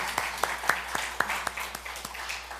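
A church congregation claps in a steady, rhythmic beat, sharp individual claps spaced roughly evenly over a soft background murmur, moderately distant.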